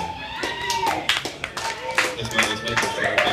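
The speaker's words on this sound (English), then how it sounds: "Give those guys a round of applause." Audience applause at a live band show in a small Orlando club, a burst of scattered clapping rising and falling beneath crowd noise and occasional voices throughout.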